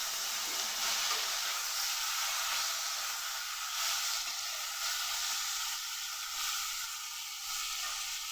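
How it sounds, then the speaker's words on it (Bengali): Chopped tomato dropped into frying potatoes in a pan gives a steady, bright sizzle that hisses continuously at close range without interruption, no voices over it. "এই আলু ভাজার মধ্যে দিয়ে দেব একটা কেটে রাখা টমেটো"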